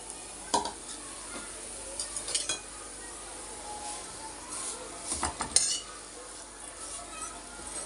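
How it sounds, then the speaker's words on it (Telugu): Wheat vermicelli fries in a spoonful of ghee in a pan, a soft steady sizzle with a spoon stirring and clinking against the metal now and then, close and fairly quiet. "సేమియాలు వేయించుకున్నాం."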